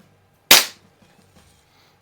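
A single sharp crack from a Beeman P3 single-stroke air pistol, close and loud in a quiet setting, decaying quickly.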